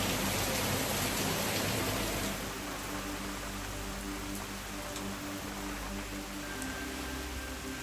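Steady, dense tropical rainstorm pouring down at a beachfront on Koh Mak, Thailand, a continuous hiss of drops on surfaces with a constant low rumble underneath, no voices.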